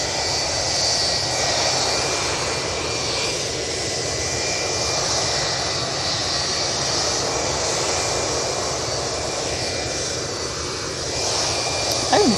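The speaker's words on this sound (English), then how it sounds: "So Ryanair on finals from Porto." Jet airliner engines roar steadily at Manchester Airport as a Ryanair flight from Porto comes in on final approach, a broad continuous rumble throughout with no talk.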